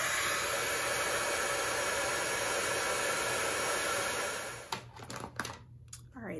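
A heat gun blows a steady, loud broadband roar over embossing powder on a handmade masculine card, running for about four seconds before cutting off, followed by a few light handling taps and rustles.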